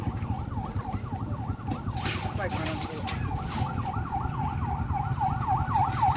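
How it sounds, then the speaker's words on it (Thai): A police car siren wails continuously in a steady repeating up-and-down pattern, fairly near and persistent, over traffic rumble while people talk. "รถตำรวจมาพุ่นน่ะ"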